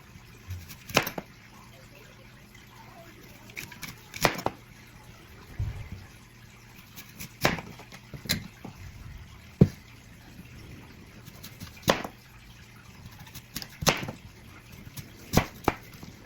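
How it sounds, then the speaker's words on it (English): Apple slices stirred in cold water with Fruit Fresh, giving faint, sparse splashes and clinks at irregular intervals against a quiet background. "So this is cold water and some fruit fresh. I'm going to mix it around there"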